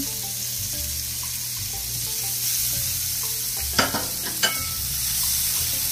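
Onions frying in a pan for fresh lumpia with green beans, giving a steady close sizzle and a couple of sharp stirring clatters near the end, with no talk.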